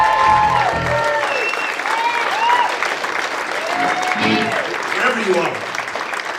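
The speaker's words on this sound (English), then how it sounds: "give him a nice round of applause" Audience at a blues concert applauds steadily for an acknowledged guest, dense broadband clapping throughout while a voice talks over it near the mic.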